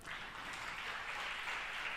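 A church congregation claps in a steady, dense wash of applause, faint and distant, with no break through the short stretch.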